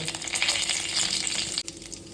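Cumin seeds, whole spices and bay leaf crackle and sizzle in hot oil in a pan at the start of a vegetable biryani, a dense, steady frying hiss with a brief break near the end.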